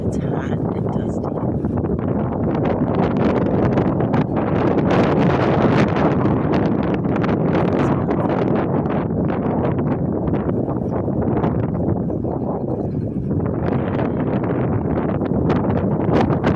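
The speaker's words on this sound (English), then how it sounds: "It is so windy today." Strong, steady wind roars across the microphone beside a river on a hot, dusty day, a dense continuous buffeting rush with no letup throughout.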